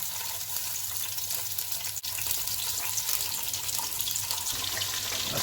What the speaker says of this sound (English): I've got the hob on high heat and now I'm going to add in some onions.